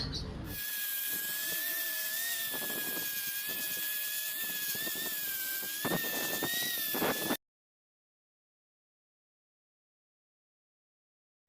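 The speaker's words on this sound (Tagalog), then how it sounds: "Gagamitan natin to ng grinder cap brush para matanggal at mapinturahan." An angle grinder spins a cup wire brush to strip rust from a Kia Pride stabilizer part, giving a steady high whine with scratchy bursts for about seven seconds before cutting off into silence.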